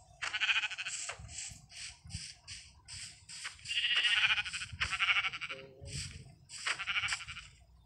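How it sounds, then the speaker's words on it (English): A sheep bleats again and again nearby, loud wavering cries in uneven bursts with short gaps between them, set against faint low background noise. "Oh, a sheep."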